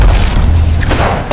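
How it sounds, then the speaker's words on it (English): A grenade blast in Apex Legends, a loud, deep boom that fills the moment and rumbles on briefly, with a sharp clatter near its end. "I just got stunned by a nade that I couldn't see."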